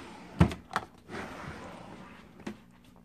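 A vanity drawer holding makeup opens with a sharp knock and a second clack, then a softer sliding rumble and a later faint bump, all close by in a quiet room.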